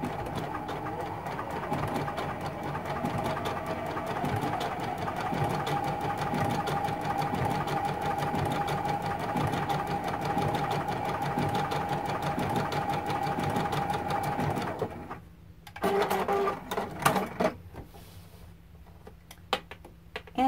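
A sewing machine stitches a blanket stitch along a T-shirt quilt seam with a steady, rapid, close mechanical chatter. It runs continuously for most of the time, then stops, leaving quieter handling sounds.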